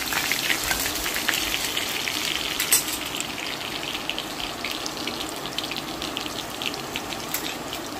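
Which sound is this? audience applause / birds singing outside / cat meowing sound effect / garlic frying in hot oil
garlic frying in hot oil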